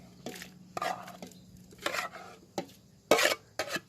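Boiled cassia (khilek) leaves are chopped with a knife on a board in a kitchen, giving several separate close thuds and scrapes at an irregular pace with no talking.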